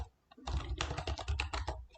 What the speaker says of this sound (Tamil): நான் இப்போது கடலூர்னு டைப் பண்ணுறேன்.